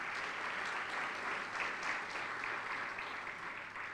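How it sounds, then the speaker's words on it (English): A conference audience at a Sivananda centenary celebration claps for the Consul General, a steady, moderately distant ripple of many hands sustained through four seconds. "I think she deserves a big round of applause again."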